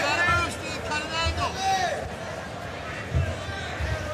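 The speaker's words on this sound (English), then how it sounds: "Crowd's calling for that leg." Crowd at a professional boxing match, Jose Leon vs Stephen Sheridan, a noisy arena hubbub of shouting voices calling out, rising and falling under close commentary talk.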